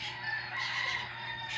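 A fighting cock crows continuously in one long, loud, close cock-a-doodle-doo, with a steady low hum underneath.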